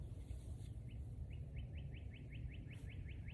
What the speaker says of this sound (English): Northern cardinal again.